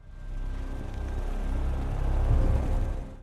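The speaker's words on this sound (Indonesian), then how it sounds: "Mobil Kyung Ho datang." A car engine rumbles low and steady, swelling slightly as the vehicle draws near and slows, with no voices over it.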